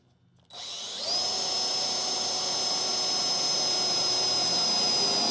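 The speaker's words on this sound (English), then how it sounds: "there's one SuperTech drill, self-drilling screw" A SuperTech cordless drill spins up and drives a self-drilling screw into the metal of a truck roll pan, with a steady, loud, high whine that rises in pitch and holds for several seconds.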